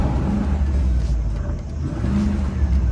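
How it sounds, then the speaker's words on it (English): A Range Rover engine revving, held back to about 3000 rpm, rises and falls in a close, loud surge with a brief dip partway through, no voices over it. "Yeah, it only lets me rev up to 3"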